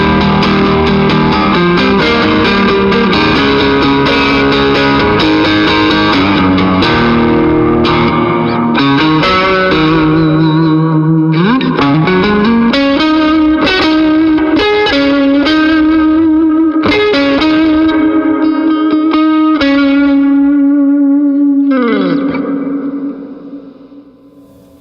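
An electric guitar plays chords and sustained notes through a Jackson Audio Prism effects pedal, with distorted, shimmering tones and a pitch bend before ringing out.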